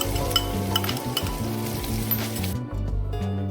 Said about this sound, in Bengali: 1 কাপ পরিমাণে পেঁয়াজ কুচি দিয়ে দিয়েছি রসুন।